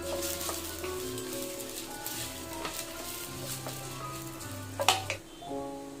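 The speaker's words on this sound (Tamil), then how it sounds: "கொத்தமல்லி கூடவே கொஞ்சமாக எண்ணெய் சேர்த்து நல்லா பிரட்டி விட்டுக்கலாங்க." Coriander fries with a little oil in a pan for a country-chicken kuzhambu spice mix, giving a steady close sizzle with light scraping stirs and a couple of sharper crackles near the end.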